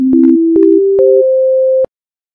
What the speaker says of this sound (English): you will hear the carrier wave without modulation. In other words, you will hear a sine wave.